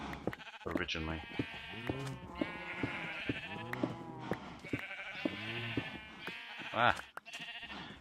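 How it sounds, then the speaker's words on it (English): Many sheep bleat repeatedly in a video game, overlapping wavering calls clustered together at close range, with a person talking and exclaiming over them. "Drowning in sheep."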